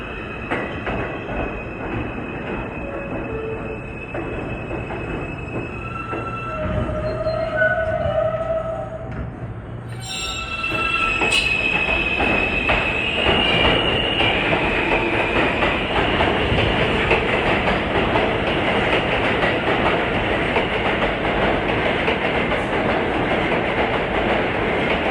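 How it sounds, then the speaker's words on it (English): A New York subway R train of R160 cars rolls into a station toward 95th Street, Brooklyn, with a long, loud rumble of wheels, brake squeals and tones partway, then clattering cars passing close until the end. "here comes an R train bound for 95th Street in Brooklyn near the Verrazano Bridge"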